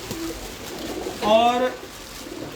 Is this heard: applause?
no